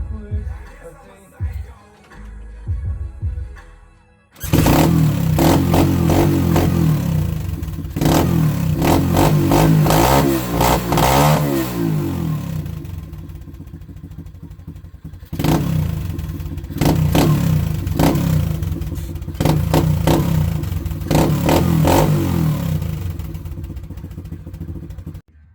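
Pit bike with freshly adjusted valves, choked and cranked, then catching and revving hard: loud, close, rough engine roars with repeated throttle blips and a brief dip before revving again.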